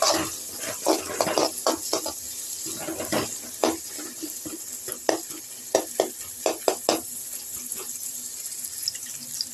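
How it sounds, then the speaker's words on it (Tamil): Onions cook in a pan for a jackfruit-seed fry, with a steady sizzle broken by repeated sharp scrapes and clatters of the stirring spoon. There is no talk. "இதுக்கு நல்லா வெங்காயம் வதங்கணுங்க கொஞ்சம் தொழில்கால வரைக்கும் வதக்கிட்டு"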